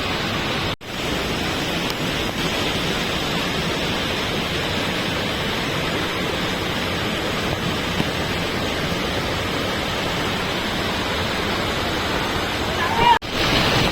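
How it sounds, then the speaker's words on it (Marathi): A large waterfall near Tamhini ghat roars as a steady, dense broadband rush, loud and continuous throughout with no break, though the falling water itself is hard to tell apart from a general noisy wash. "काय तुम्ही बघू शकता खूप मोठा आहे. आणि धबधबा वेड्या धबधबा."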